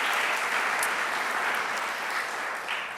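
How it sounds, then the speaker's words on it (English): Audience applause in a university hall after a talk by the PBS president, a dense, steady clapping from a large crowd that fills the whole stretch at full strength and eases slightly toward the end. "Stand up and let us give you a good round of applause."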